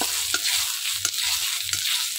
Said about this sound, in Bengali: তো এই জিরেটা একটু ভাজা করে, কিছুটা জিরে আমি বেটে নেব এখান থেকে।